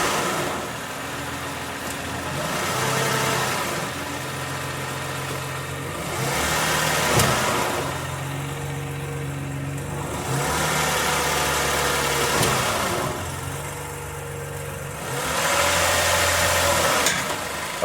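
2014 Toyota Highlander engine running during a transmission fluid flush, steady idle swelling in periodic revs and load changes as the gears are shifted, close and continuous.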